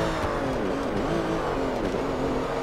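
An R3-class race car in Forza Motorsport 3 revs hard under acceleration, a steady loud whining engine note with rising and shifting pitch and no talk.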